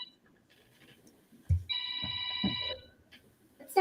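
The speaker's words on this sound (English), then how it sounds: "Whose phone's ringing?" A phone rings indoors with a steady electronic ringtone tone lasting over a second, mixed with a few low thumps and quiet background noise, ending with a louder burst at the close.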